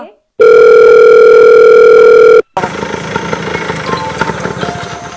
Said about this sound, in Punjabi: ਮੈਂ ਇਹਨਾਂ ਨੂੰ ਫੋਨ ਲਾਉਂਦੀ ਆ